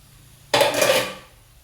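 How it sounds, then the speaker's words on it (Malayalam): About a kilo of rose apples (champakka) dropped into a pan of hot oil for pickle: a sudden loud clatter and sizzle that swells briefly, then fades over roughly a second, with no talk. "ഇനി നമുക്കിതിലേക്ക് നമ്മളെടുത്ത് വെച്ചേക്കുന്ന 1 കിലോയോളം ഉണ്ട് നമ്മുടെ ചാമ്പയ്ക്ക ഇങ്ങോട്ടിടുക."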